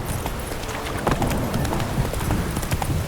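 Hooves of Roach, the horse in The Witcher 3, galloping in a fast, steady clip-clop rhythm close by, with no voices over it.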